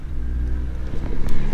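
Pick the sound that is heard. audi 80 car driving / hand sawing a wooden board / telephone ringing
audi 80 car driving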